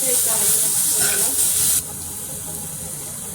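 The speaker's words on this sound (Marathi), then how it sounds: "आता मी चिमूटभर हिंग ॲड करत आहे" A pinch of asafoetida (hing) hits hot oil for a spicy rustic fenugreek (methi) curry, giving a loud, steady bright hiss that drops to a softer, even sizzle about halfway through.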